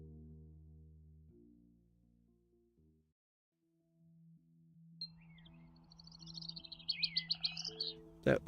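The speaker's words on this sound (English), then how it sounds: "There was like one bird that seemed like it was really loud." In the video game House Flipper, soft tonal background music plays before a bird starts chirping partway through, its quick, bright tweets growing louder and denser toward the end, with no speech.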